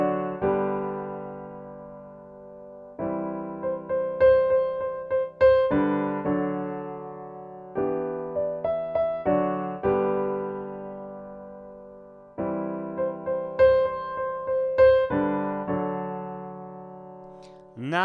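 A simple piano arrangement of a song from A Star Is Born plays in clear phrases of struck chords and melody notes that decay between attacks, with short pauses separating the phrases.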